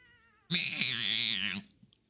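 Cartoonish cat meow from the cat dancer taunt in the video game Dota 2, one long drawn-out meow rising and falling, loud and alone after a faint tone.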